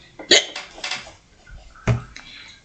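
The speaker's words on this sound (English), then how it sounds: "pardon me, I got hiccups now." A person hiccups a few times, close and fairly loud, with abrupt catches spaced over a couple of seconds, one sharper hiccup near the end and no talking in between.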